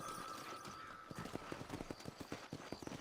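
A horse's hooves clop in a steady, quick rhythm in Red Dead Redemption, close and distinct, each strike a crisp thud over a faint background hum.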